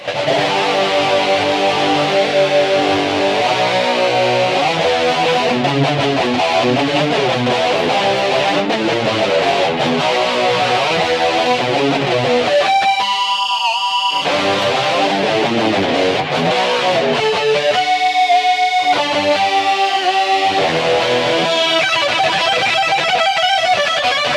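Electric guitar through a BOSS eBand JS-10 set for a 1980 tone, with distortion modelled on an MXR Distortion Plus and chorus, playing loud, sustained riff passages broken by short gaps, alone with no talk.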